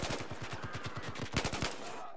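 M4 rifle fire in Battlefield 4, a rapid automatic burst of evenly spaced close shots that stutters near the end and then stops.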